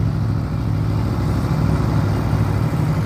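Aprilia motorcycles, including Tuono, RSV4, Shiver and Dorsoduro models and RSV 1000s with Rotax twin-cylinder engines, parade at the Mugello circuit; a steady, dense low engine rumble runs throughout without any single bike standing out.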